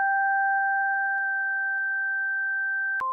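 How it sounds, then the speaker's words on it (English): Two pure sine tones from a simple additive VST3 synthesizer plug-in hold together steadily and evenly, then both jump briefly to new pitches at the very end. "The goal of this tutorial is a simple additive synthesizer that generates two sine waves like this."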